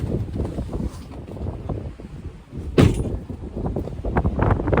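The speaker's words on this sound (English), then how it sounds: "Try to get out of the wind here." Wind blowing across a microphone outdoors at a beehive apiary, a loud low rumbling buffet that surges and eases, with one sharp gust-like burst partway through.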